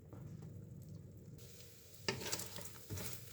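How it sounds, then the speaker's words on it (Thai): Quiet, steady sizzling of egg frying over low heat in a sticky pan, with a few soft scraping stirs and clinks partway through. "กระทะที่มันติดนะ่ะต้องทอดไฟอ่อนๆให้ มันค่อยๆสุก"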